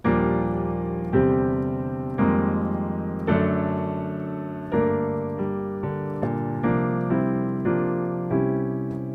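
Piano chords move stepwise over a descending bass, with a suspended chord slipping in between, each chord struck and left to ring in a steady progression.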